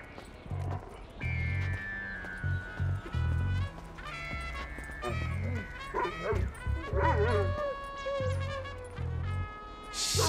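Dogs bark in loud repeated bursts, with whining and yelping whimpers in between, close by and continuous throughout.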